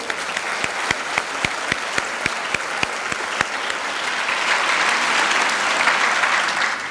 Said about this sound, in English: That deserves an applause.